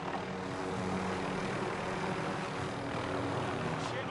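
Low-flying helicopter in a multiplayer shooter video game: a steady, loud droning engine and rotor rumble that fills the whole stretch without letup, with no voices over it.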